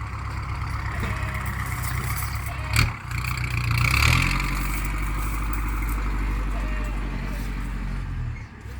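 A farm tractor engine runs steadily with a deep, throbbing low drone throughout, briefly rising around the middle before settling back to an even chug, while people talk nearby.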